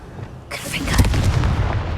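A Confringo fire spell blast in the Hogwarts Legacy video game: a sudden booming burst that erupts after a brief quiet moment, followed by a crackling, rumbling fiery tail.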